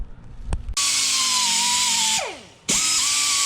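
A power sanding disc, 60 grit, grinds down bolt ends on a C6 Corvette during disassembly, a loud steady high whine that cuts out, winds down, then spins back up, close and alone.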